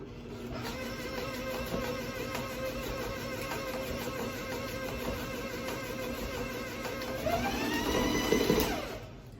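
Electric mixer blending cupcake batter as dry mixture is added for lemon raspberry cupcakes, a steady close whirring hum with a rising strain near the end, no talking.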